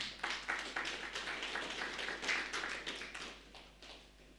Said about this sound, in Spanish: Recibimos con un fuerte aplauso al coro Nueva Alegría.